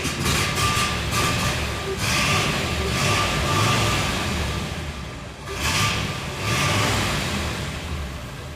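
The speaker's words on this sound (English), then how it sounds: "Car's running, driving, idling like it should." A 1963 Chevrolet Corvette roadster engine running at idle, a loud continuous rumble with a steady low drone and slight swells, heard up close with no talking.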